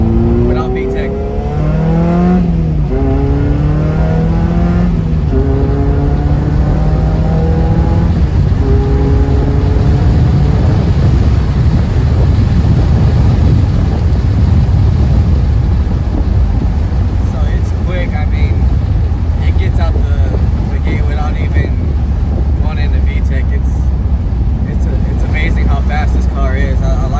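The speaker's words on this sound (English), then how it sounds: "I'll give you a little quick pull without VTEC." Toyota MR2 Spyder fitted with a Honda K24 TSX engine revving in a quick pull without VTEC, the engine note climbing and falling in rising sweeps, then settling into a loud continuous roar.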